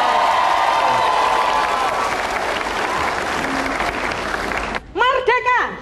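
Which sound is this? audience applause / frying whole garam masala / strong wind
audience applause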